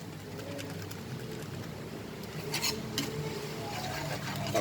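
Onions added to a pan and stirred, quiet scraping and light clinks of a utensil against the pan with a soft sizzle underneath, a few sharper scrapes near the middle.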